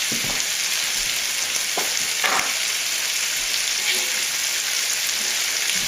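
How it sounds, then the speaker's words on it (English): Meat hits a pan of browning onions with a loud, steady, dense sizzle of frying that carries on unbroken, with a few soft scrapes of stirring close by. "I'm going to throw the meat in with the onions"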